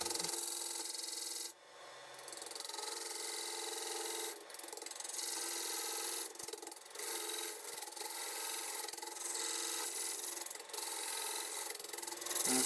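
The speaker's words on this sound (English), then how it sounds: "I've sanded it again, 180 down to 240" Continuous harsh rasping of sandpaper, working through 180 to 240 grit, against a wood-turned piece spinning on a lathe, loud and steady with a few brief dips, no voices.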